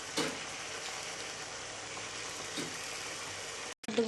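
Chicken pieces sautéing in a pan with salt and spices, a steady close sizzle with faint scraping and clinking of stirring, broken by a brief pause near the end.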